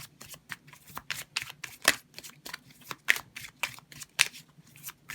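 Tarot cards are shuffled by hand close up, a quick run of crisp papery riffles and slaps in an irregular rhythm, with a few sharper flicks, quiet and alone without talk.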